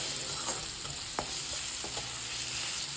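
Steady sizzling of chutney kulambu ingredients sautéing in a pan, with a few scraping clicks of a spoon stirring now and then, close and continuous.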